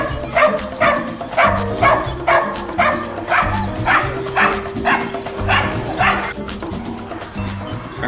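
Several dogs in pound cages bark and yip repeatedly at close range, overlapping in a busy irregular rhythm over a low hum, with an occasional whimper.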